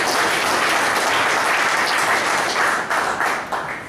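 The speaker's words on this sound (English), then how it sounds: "Big round of applause for our" Dense, steady applause from an audience at a speech evaluation session, continuous clapping filling the room for several seconds before easing slightly at the end.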